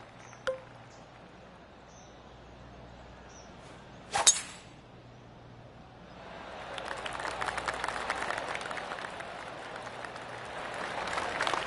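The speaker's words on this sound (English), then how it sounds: "I can hear the golf claps around the course." Scattered golf claps from spectators around the course in PGA TOUR 2K25 rise from about the midpoint and continue as a soft, distant patter of applause to the end, after a few isolated clicks and chirps.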